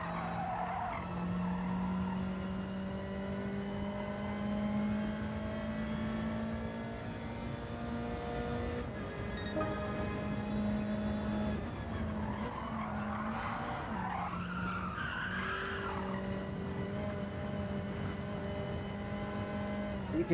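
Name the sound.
car tyres skidding and losing grip in video game Gran Turismo 7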